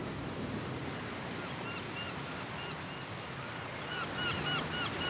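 Ocean surf washes steadily below a seabird nesting ledge on a cliff, a broad continuous roar with wind, while faint honking seabird calls rise over it toward the end.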